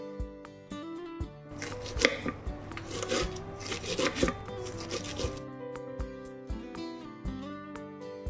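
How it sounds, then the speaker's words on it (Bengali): Spinach being chopped on a board at home, a series of crisp knife strikes in irregular bursts with busier chopping in the middle, heard over steady background music. "আমার পালং শাকটা আমি ধুয়ে তারপরে কাটাকুটি শুরু করি"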